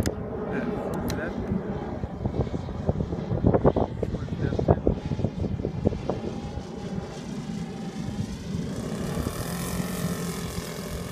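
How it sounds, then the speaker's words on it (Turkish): A Hangar 9 P-47 radio-controlled model plane with a Saito FG-40 engine landing with full flaps, its propeller drone steady and fairly close over wind noise while people talk throughout. "full flap'le iniş yapıyor Serdar."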